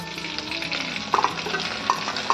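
A ground spice paste frying with browned onions in a pan, a close, continuous sizzle with stirring and a few small sharp pops.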